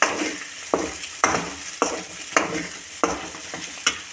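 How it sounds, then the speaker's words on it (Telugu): Chili powder fries in oil while a pan of egg fried rice is prepared. A steady hiss is punctuated by regular sharp scraping strokes of a spatula, about one every half second, close up and with no one talking. "కొద్దిగా కారం వేసుకుంటే కారం అనేది నూనెలో వేగుతుంది"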